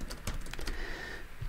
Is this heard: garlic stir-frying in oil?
no